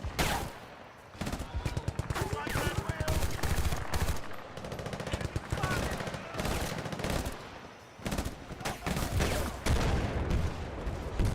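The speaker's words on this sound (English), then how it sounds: "Yeah, something is definitely shooting us." Dense gunfire in Battlefield Bad Company 2, rapid machine-gun bursts and single shots crackling loud and close, nearly continuous with brief lulls between volleys.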